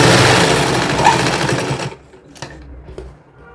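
A sewing machine runs loud and close stitching a baby girl's designer dress, whirring steadily for about two seconds, then stopping into a few quiet handling clicks.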